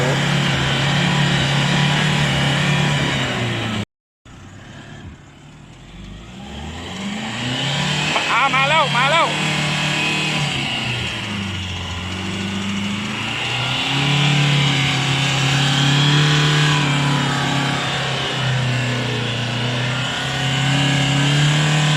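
A stock Nissan Navara pickup claws through slick mud, its engine revving hard and surging in long loud waves as the wheels spin, after a brief cut to silence, with people talking and calling out over it.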